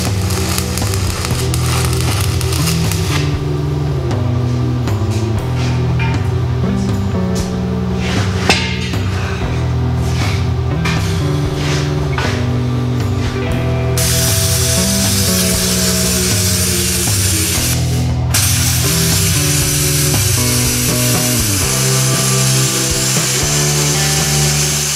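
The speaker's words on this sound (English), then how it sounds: "when I came in and plasma gouged it out" A Plasma 45 XP plasma cutter gouges out a weld, giving a loud continuous hissing roar with crackling and rough, shifting texture throughout, close by and uninterrupted.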